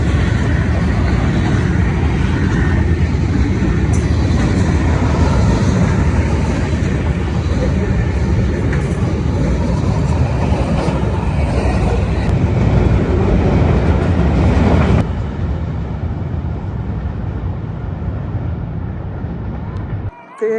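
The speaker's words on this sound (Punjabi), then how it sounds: "ਤੇ ਇਹ ਕੰਟੇਨਰਾਂ ਵਾਲੀ ਟ੍ਰੇਨ ਸੀਗੀ ਜਿਹਨੂੰ ਆਪਾਂ ਮਾਲ ਗਾੜੀ ਕਹਿੰਦੇ ਆਂਗੇ।" A container freight train rolls past close by, a loud, steady rumble and rattle of wagons that holds for about fifteen seconds and then eases to a slightly quieter, continuing roar.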